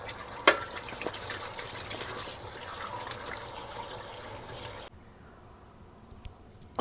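Tap water runs steadily while chicken pieces are rinsed to wash off vinegar and salt, a close, even gush with a brief clatter near the start, stopping abruptly before near-silence.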